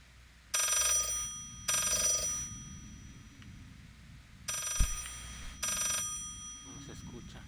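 An old-fashioned telephone bell rings inside the horror video game Layers of Fear, sounding two pairs of short bright double rings separated by quiet, eerie ambience with a single dull thump.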